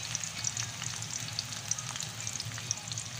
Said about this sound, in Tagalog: Gisa lang po natin yung pork